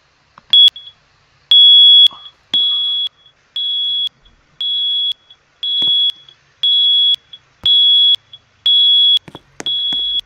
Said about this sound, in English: I don't know why it's still beeping